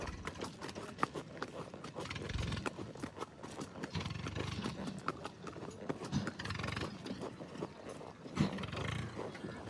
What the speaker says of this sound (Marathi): आता आम्ही चाललो घोड्यावर बसून.